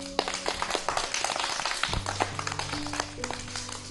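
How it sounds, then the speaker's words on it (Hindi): Children clapping together for a friend at a children's TV programme, a scattered burst of claps in the studio, with some talk and music-like tones running underneath. "बच्चों, जोरदार तालियां प्यारे से हमारे दोस्त के लिए बजा दो सब लोग"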